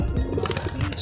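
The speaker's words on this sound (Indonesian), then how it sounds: "Ini burung merpati ini" Pigeons coo softly at close range in a short burst of low, repeated calls, from loft pigeons kept by a fancier in Indonesia.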